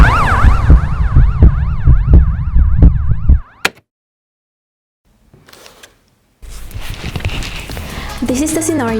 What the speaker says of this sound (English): I found a lot of siren sound effects in Epidemic Sound